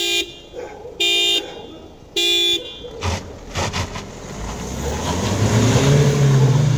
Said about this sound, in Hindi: 3 हॉर्न के बाद हमारी रेस शुरू होगी।